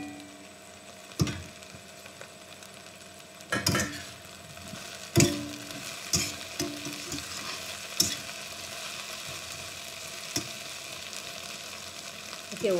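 Okra onion curry cooking in a pan, soft sizzling beneath scattered clinks and scrapes of a spoon stirring, quiet and close with irregular taps.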